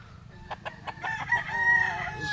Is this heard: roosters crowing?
yes